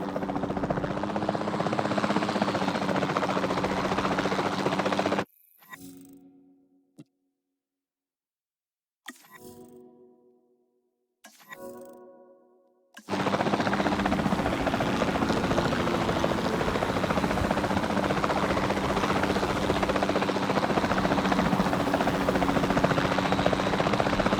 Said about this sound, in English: Then the sensible thing is to take a capture team helicopter. You can trank it from the air.